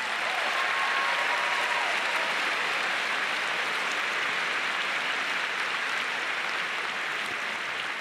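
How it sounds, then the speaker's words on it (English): A large crowd at Liberty University gives sustained, even applause, a dense roar of clapping that holds at constant strength throughout. "Would you give them a round of applause?"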